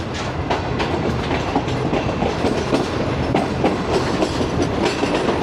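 The Awam Express pulls out of Rohri, its carriages rolling with a steady, loud clickety-clack of wheels over rail joints and a continuous rumble heard from on board.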